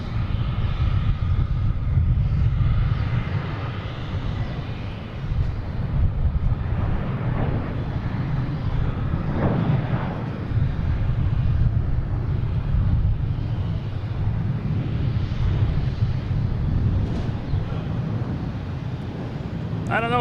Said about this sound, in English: We got JetBlue heading to Las Vegas.